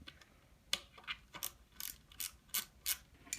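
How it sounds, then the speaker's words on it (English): A wrench tightening a nut onto a bolt gives repeated sharp ratcheting clicks in short bursts, close up and fairly quiet, with no talking. "Take your wrench and you're going to put it right on the nut, tighten it"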